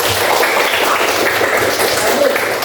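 A classroom of pupils clapping together during a lesson on prayer and dhikr, a dense, steady patter of many hands filling the room for a few seconds.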